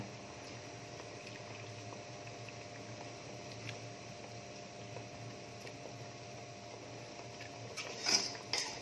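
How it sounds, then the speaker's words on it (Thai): A steady low bubbling roar of water boiling in a pot, continuous and fairly quiet, with a faint mains hum and a couple of small clinks near the end. "น้ำเดือดแล้ว"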